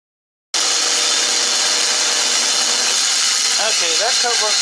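A saw blade cuts through wood for a pull toy dog, giving a loud, steady broadband rasp that runs continuously after a short silence, with a brief voice-like sound near the end.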